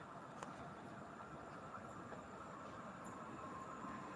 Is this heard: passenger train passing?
yes